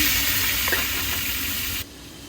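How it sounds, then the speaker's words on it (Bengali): An egg frying in a pan with turmeric and salt gives a steady, close sizzle that runs without talk and then drops sharply to a quieter hiss near the end. "এখন ডিমটা ভেজে ফেলি হলুদ লবণ দিয়ে দিয়েছি"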